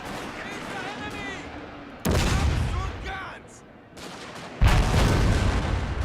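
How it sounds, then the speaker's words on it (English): Artillery and rifle volleys roar on a battlefield in Shogun 2: Fall of the Samurai, with sudden loud bursts of booming fire separated by quieter stretches and occasional voices in the game. "Alright, the artillery finally opened up. These guys are firing like crazy."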